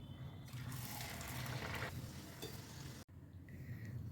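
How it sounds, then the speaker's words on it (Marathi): Tomato puris deep-frying in hot oil, a close, steady sizzle that swells and then eases off, ending in a sharp break and a quieter, thinner bubbling. "अशाच पद्धतीने बाकीच्या पुऱ्या पण आपण तळून घेतो आहे"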